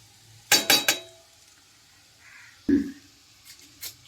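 Two metal spatulas clink and scrape in a pan while tossing restaurant-style Chinese noodles with fried vegetables and egg, a quick burst of clatter followed by sparse, quieter knocks against a near-silent background.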